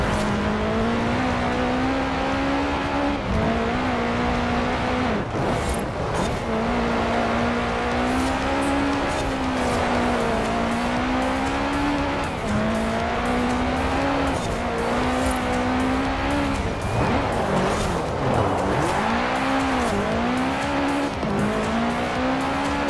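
A racing car in Forza Horizon 4 revs hard and accelerates through gear changes, its loud steady engine drone rising and falling with brief tyre squeals, continuous and close.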